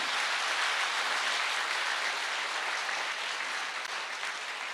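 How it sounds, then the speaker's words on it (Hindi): Hearty applause from an audience at a live Ayurveda health awareness session for the wellness organisation, a dense, even wash of clapping that fades gradually over several seconds. "एक जोरदार तालियां होनी चाहिए संस्था के लिए।"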